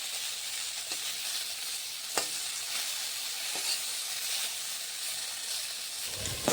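Eggplant sizzles in a pan with a steady, hissing fry, punctuated by a few sharp clicks and taps from a utensil.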